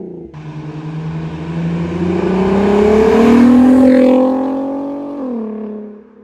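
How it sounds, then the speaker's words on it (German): A Volkswagen VR6 six-cylinder engine revs hard, pitch climbing to a loud peak before dropping back to a rough idle, heard up close with no voices. "VR6 Motor zu finden in vielen Golf-Versionen oder im Corrado hat einen so einzigartigen Sound im Vergleich zu V6-Motoren"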